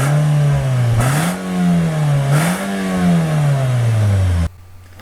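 A 2006 Nissan X-Trail engine revs up and down in two rising-and-falling swells, loud and near, before cutting off abruptly.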